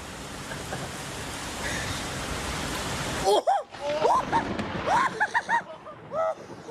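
Heavy rain in a storm hisses steadily for about three seconds, then drops away as a person speaks in short bursts over a fainter wash of rain.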